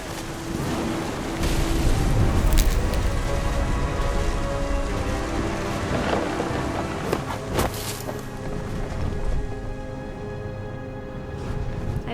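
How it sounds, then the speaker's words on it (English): Steady heavy rain pours down in the game What Remains of Edith Finch, a dense continuous hiss that swells early and later eases, with a few louder sharp bursts near the middle. "Thunder sounded much too close and full of angry power."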